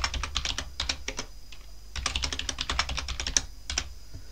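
A password is typed on a computer keyboard in quick bursts of close, crisp key clicks, with a brief pause in the middle before another run of keystrokes.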